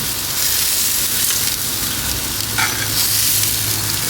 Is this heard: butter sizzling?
yes